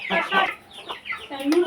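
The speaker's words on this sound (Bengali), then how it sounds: "আমার মুরগির বাচ্চাগুলো খাইতেছে," Young chickens, about a month and a half old, clucking and peeping while they eat their feed, with several short bursts close by and brief pauses between them.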